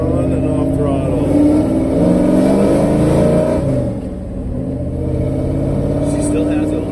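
A rebuilt Ford 351 Windsor V8 with Flo Tec 185cc heads revs on and off the throttle, loud and close, its rumble rising and falling in steady surges, with a dip near the end before it builds again.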